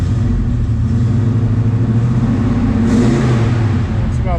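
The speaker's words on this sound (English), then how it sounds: "Rev it up again a little bit here." A 1967 Chevelle SS convertible's V8 is revved up from idle, its deep, loud engine note rising and holding close by as the throttle is opened, with a brief higher whine near the end.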